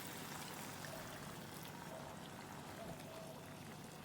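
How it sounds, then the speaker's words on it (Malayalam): Hot water poured into a crab masala curry in a pan, a soft, steady pouring and bubbling wash that runs continuously and faintly throughout. "ചൂടുള്ള വെള്ളം ഒരൽപ്പം ഇതിലേക്ക് ഒഴിച്ചു കൊടുക്കാം"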